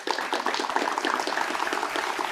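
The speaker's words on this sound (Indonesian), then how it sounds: "Kita beri tepuk tangan yang meriah untuk Dr." Audience applause for Dr. Lee Darmawan, physician behind a floating hospital serving remote Indonesian regions, a steady wash of many hands clapping at moderate volume throughout, with no talk over it.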